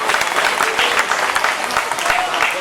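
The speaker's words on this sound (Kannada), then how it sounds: "ಜೋರಾಗಿ ಚಪ್ಪಾಳೆ ಹೊಡ್ಬೇಕು." Loud applause from a colony audience at a community celebration, with continuous close clapping from a crowd that holds steady throughout, voices faintly mixed in.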